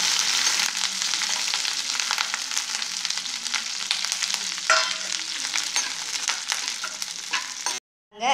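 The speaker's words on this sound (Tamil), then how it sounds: "படப்படன்னு பொரியும்." Curry leaves crackle as they fry in oil for chutney, a continuous close sizzle with scattered pops and light stirring, ending abruptly in a moment of silence.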